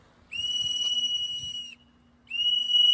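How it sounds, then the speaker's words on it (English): A shrill whistle blown at a street protest in two sharp blasts: a long piercing toot, a short gap, then a second blast, loud and close over faint background noise. "Why are you blowing your whistle, sir?"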